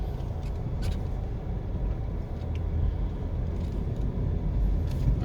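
A car drives through the Three Oaks Gardens residential community in Kingston, Jamaica, heard from inside as a steady low engine and road rumble with occasional light knocks and rattles.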